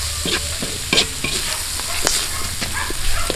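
Lechon sisig sizzles and crackles in a hot pan outdoors while green long chilies are stirred in, with steady frying hiss broken by repeated scraping stirs and clinks close by.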